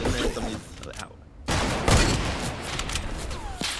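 Sniper rifle shot in the Fortnite battle royale game, a single sharp crack amid busy in-game gunfire and rustle, fairly faint overall.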